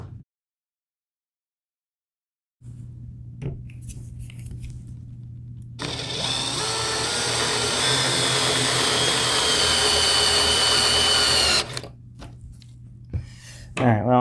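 A drill drives a screw extractor into a stripped screw on a coffee table, a loud whining spin lasting about six seconds over a low steady hum, with brief clicks before and after.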